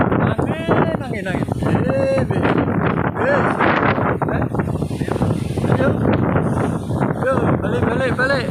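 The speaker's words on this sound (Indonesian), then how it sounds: "Angin." Strong gusty wind blowing during a rubbish burn at Jenar Lor, Purwodadi, Purworejo, Java, roaring steadily over the microphone throughout, with people talking over it.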